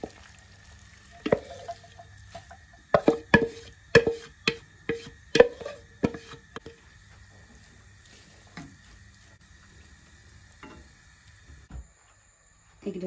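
Chicken fillet placed in a dry pan with no oil or butter, giving a series of sharp crackles and sizzling bursts clustered early on, then fading to faint occasional pops.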